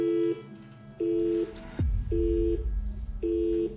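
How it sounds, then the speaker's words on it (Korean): A telephone call goes unanswered, its ringing tone pulsing four times at even intervals with a deep thump partway through. "버스가 늦나 싶어 딸이 다시 전화를 걸어보는데"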